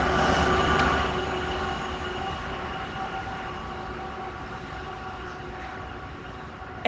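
A train rumbles past close by with a steady roar and a faint metallic whine from the wheels, fading slightly after the first second and holding a constant level.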